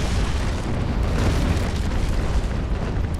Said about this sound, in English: He's firing his forward chasers.